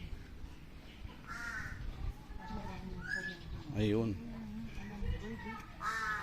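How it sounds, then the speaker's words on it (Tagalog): Crows caw repeatedly, with other bird calls mixed in, near and fairly loud, while people talk over the flock throughout. "Ayun, ang dami niyang ibon."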